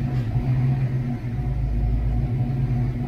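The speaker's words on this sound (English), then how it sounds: "As you can hear, the car still has a little bit of a surge to it." Foxbody Mustang engine running at idle on a Mega/Micro Squirt setup, a steady low rumble that swells slightly and dips as the idle surges, close and continuous with no talking.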